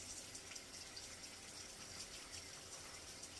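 Tap water runs steadily into a kitchen sink during hand washing while cooking, a continuous close hiss with no talk over it.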